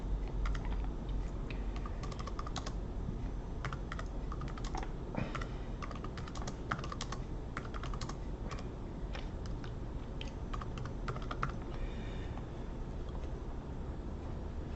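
Rapid, continuous typing on a computer keyboard, crisp key clicks in an irregular rhythm, close and fairly quiet, with no talking over it.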